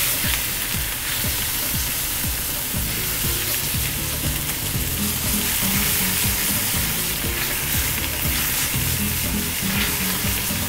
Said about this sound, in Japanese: 焼き目つけるっていうより表面こうちょっと一枚膜作る感じね